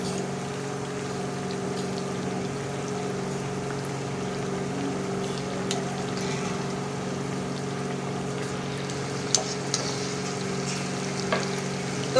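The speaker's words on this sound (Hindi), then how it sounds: "तो ये देखें जी हल्की हल्की आंच पे ये फ्राई हो रही है।" Sweet tikiya patties fry gently over low heat, a steady, even sizzle with a low hum underneath and a few faint pops, continuous and close with no talking.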